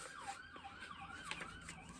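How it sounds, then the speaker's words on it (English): Police sirens wail faintly outside a window a block from a police station, several overlapping rising and falling tones heard at a distance over low traffic rumble. "Forgive the sirens outside my window."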